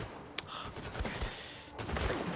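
Enemy gunfire in Wolfenstein 2 rattles in rapid, faint bursts of shots, a quiet, continuous volley with sharp cracks scattered through it.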